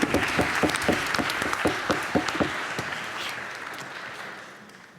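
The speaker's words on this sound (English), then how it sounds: "So applause to Paul." An audience at a tech innovation semi-final applauds Paul from Decouple, starting with a few loud, distinct claps up close that blend into a wider wash of clapping and then slowly die away.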